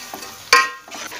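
Chicken being fried in a pot for Kashmiri chicken yakhni pulao: soft stirring scrapes and faint sizzling, with one sharp utensil clank against the metal pot partway through.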